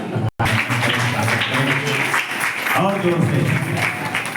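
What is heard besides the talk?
applause at a Hindu wedding ceremony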